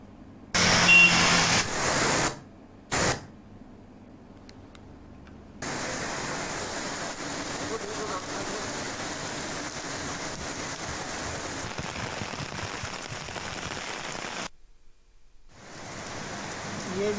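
Heavy, continuous rain falling over farm fields in Madhya Pradesh, a dense steady hiss broken by short cuts and silent gaps between segments.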